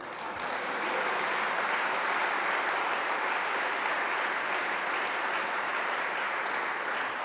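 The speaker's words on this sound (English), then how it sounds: "That deserves a round of applause." Audience applause after a remark in a mayor's budget address, a steady dense wash of clapping sustained for the whole stretch without a break or voices.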